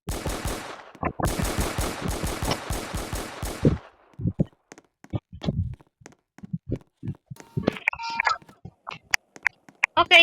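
Golden gun firing in Roblox Brookhaven: a rapid burst of close, sharp automatic shots for several seconds, then scattered single clicks and pops with quieter game sounds.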